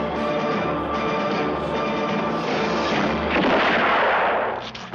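Gunfire rings out during a Red Dead Redemption shootout, a dense rolling barrage of booming shots layered over a steady game soundtrack, loud and sustained throughout.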